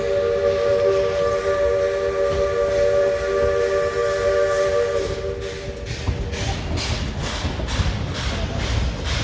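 Steam locomotive on a mountain forest railway giving a loud sustained steam whistle over a constant hiss of venting steam, the whistle cutting off midway and leaving rumbling, chuffing steam noise.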